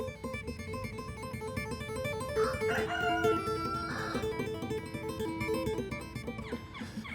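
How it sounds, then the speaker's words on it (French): A rooster crows twice in the distance, faint and drawn out, under sustained guitar notes being played close by. "on entend un petit peu mon coq"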